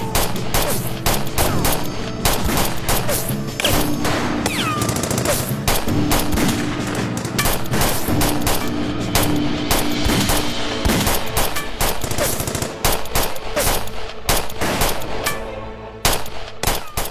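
Sustained automatic gunfire in an Urdu-language TV drama, dense rapid bursts of shots running loud and continuous with music-like tonal layers underneath.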